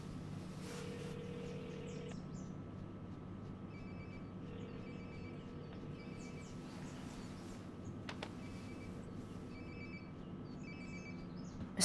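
A mobile phone rings in the video game Life is Strange: Before the Storm, a repeating high electronic ringtone pattern heard at moderate distance over a steady low ambient hum and faint bird-like chirps, with no talking.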